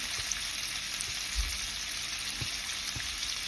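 Steady, quiet sizzling of onions frying in butter, a continuous crackling hiss with faint occasional taps.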